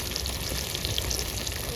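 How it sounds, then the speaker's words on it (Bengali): Rohu river fish deep-frying in oil in a wok makes a steady, close, even sizzle with small popping spatters throughout. "আমি আবার একটু ডুবো তেলে ভাজবো বলে কড়াইতে তেল দিচ্ছি"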